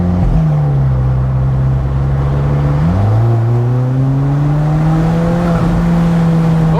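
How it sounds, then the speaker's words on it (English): An Alfa Romeo 4C Spider exhaust rises in pitch, then drops sharply on an upshift with a throttle blip and climbs again, loud and close with a steady droning tone. "Wow, nice exhaust sound. Very, very nice. On that upshift."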